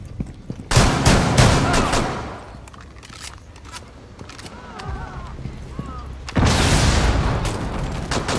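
Loud gunfire bursts from a Rainbow Six Siege hostage match on the Kanal map, with rapid automatic volleys at the start and again near the end and quieter mechanical clatter between.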